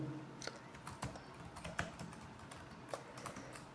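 Someone types JavaScript code on a computer keyboard, a quiet irregular run of close key clicks with a few sharper taps, with no voices.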